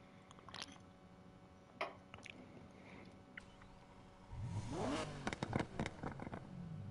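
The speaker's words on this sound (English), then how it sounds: "Definitely sounds like a V12." A modified V12 car engine with an altered exhaust in Need for Speed Heat starts up and revs after a few seconds of quiet clicks, swelling into a loud, rising, throaty roar that holds to the end.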